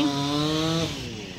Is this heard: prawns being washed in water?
no